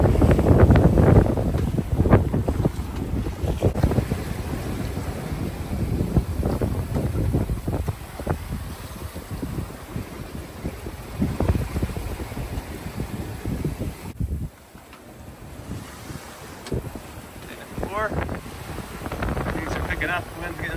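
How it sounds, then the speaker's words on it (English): Strong wind roars steadily across the microphone aboard a sailboat at sea off the Moroccan coast, with gusty buffeting and water wash throughout and brief voices now and then. "Things are picking up, the wind's getting pretty strong."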